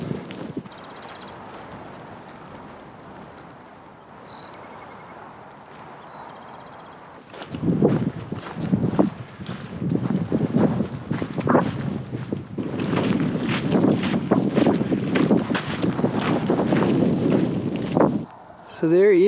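Gusty wind roars across the mic in Joshua Tree desert, quiet at first and then buffeting hard in strong bursts, with people speaking now and then.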